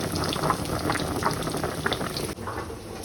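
Glass jars sterilizing in a pot of boiling water on a home stove, a steady close bubbling and simmering with soft crackles throughout, no talking.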